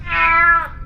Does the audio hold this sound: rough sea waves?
no